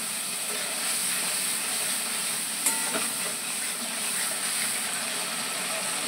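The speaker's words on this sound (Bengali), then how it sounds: "এবার এটা ভালো করে কষিয়ে নিতে একটু জল দিয়ে দেবো" Masala frying in a pan just after water is added gives off a continuous, even hiss and sizzle with a brief clink near the middle, heard up close with no talking.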